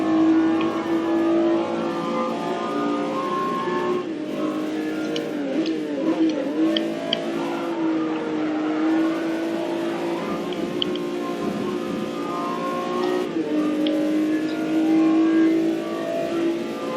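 An old muscle car engine drones steadily through racing laps, its revs climbing and falling as it takes corners on a slippery track, loud and continuous throughout.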